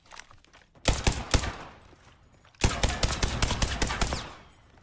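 Gunfire from a weapon in the video game Baseplate.EXE rings out in two loud bursts of rapid shots, a short volley followed by a longer sustained string of crisp, closely spaced cracks.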